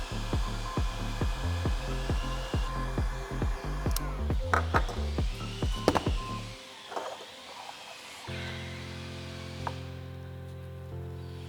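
A heat gun blows hot air onto BMW M2 F87 LCI daytime running light modules, first with rapid rhythmic pulsing, then settling into a steady, close whooshing hum.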